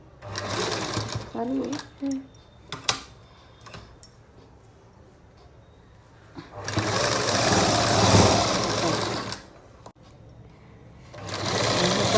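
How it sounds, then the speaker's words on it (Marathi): An electric sewing machine stitches a blouse in loud bursts of steady whirring, with pauses between runs where someone talks. "आता आपण ते शिवून घेतोय"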